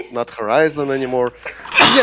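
A single sharp sneeze bursts out at the end, right after a person talks.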